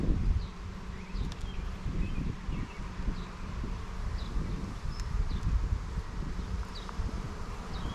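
Honey bees swarming over a hive frame make a dense, steady buzzing hum close by, with individual bees whining past now and then and faint birdsong in the distance.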